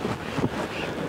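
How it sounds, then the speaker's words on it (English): Breezy wind gusts across the microphone beside a cold fishing lake, a steady rough outdoor rumble with no talking. "it's got a bit breezy"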